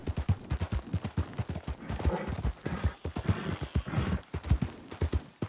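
Horse hooves clip-clop steadily in Red Dead Redemption 2, a fast rhythmic run of close, thudding beats at a gallop with some faint background game noise.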